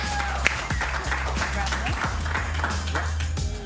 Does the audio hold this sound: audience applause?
yes